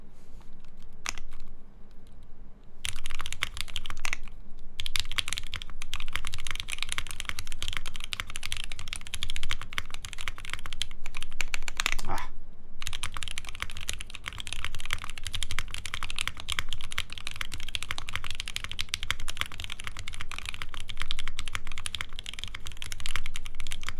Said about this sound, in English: Indeed sounds like a mechanical keyboard.